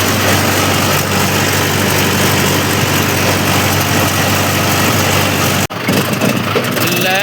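A Mahindra tractor being taken in for repair of a fault runs with a loud, steady, close engine drone, broken by a sharp cut near the end before the rumble resumes.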